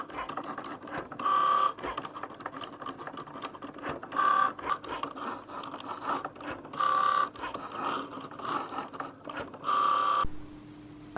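Cricut cutting machine working on a card, a steady mechanical whir with about four louder motorised passes of rising buzz, close and moderate in level, with no voices, ending in a faint hum.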